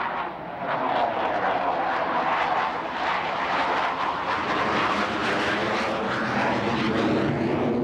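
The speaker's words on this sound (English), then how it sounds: "Blue Angel number 5 is rolling" Blue Angels jet aircraft rolling down the runway on takeoff at an air show, a loud, steady broad engine roar that holds without a break throughout.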